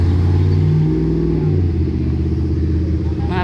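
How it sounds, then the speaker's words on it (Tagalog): Vehicles pulling away one after another as a school bus leaves a school drop-off, a loud close rumble of engines revving and accelerating, steady throughout with some clatter. "Mag-aalis na siya, tsaka na rin aandar yung mga sasakyan"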